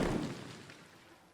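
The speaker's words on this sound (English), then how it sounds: "And I'll just go for like a medium explosion." A medium explosion sound effect from the Crayta game editor's asset library: one muffled blast with a strong low boom at onset, decaying steadily over about a second, heard alone.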